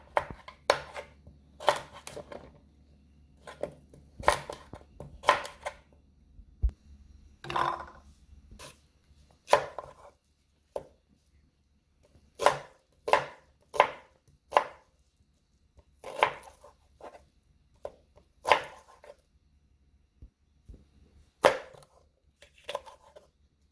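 A knife chopping through raw pumpkin with the skin on, firm, sharp cuts against a board in irregular clusters and single strokes, close and clear with quiet gaps between.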